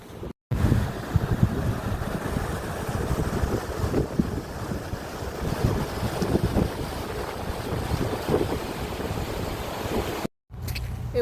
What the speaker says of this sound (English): It was a little windy walking by the sea.